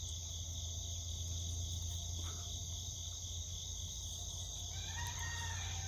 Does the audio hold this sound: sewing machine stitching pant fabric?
no